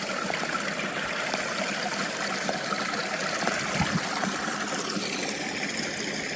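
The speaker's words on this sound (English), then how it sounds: "Comes on down this little bitty creek right here." Small creek in the Smokies below Fern Branch Falls on the Porter's Creek Trail, flowing and babbling steadily at close range. The water noise is constant and broadband, with no voices.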